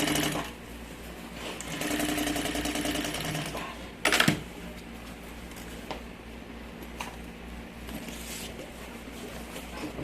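A sewing machine stitches the lining of a large changing bag in short runs, a buzzing whir that stops and starts, with a sharp clack between bursts.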